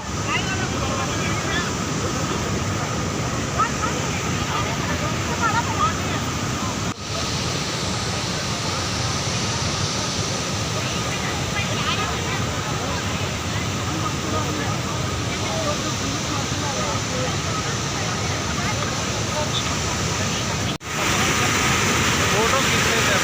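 Godachina Malgi waterfall roars as a steady, dense wash of falling water, loud and close, running unbroken for over twenty seconds with brief dips, while people talk over it.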